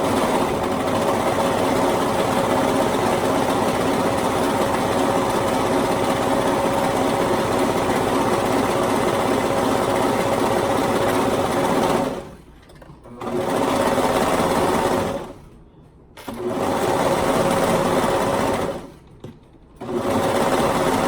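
A sewing machine stitches a seam with a half-inch seam allowance, droning steadily and close at hand for long runs, stopping briefly three times before starting again.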